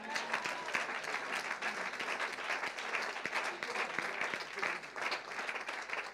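Congregation applauding at a French-language church service: sustained dense clapping from many hands fills the whole stretch, steady and fairly loud, with no voice over it.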